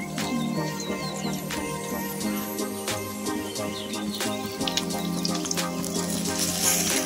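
Milk-soaked bread slices frying in ghee give off a steady, close sizzle and crackle that runs throughout, with background music playing along underneath.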